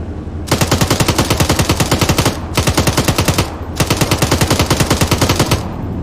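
Loud, close automatic gunfire in a military simulation video game, two long sustained bursts of rapid evenly spaced shots separated by a brief pause, with no talk over them.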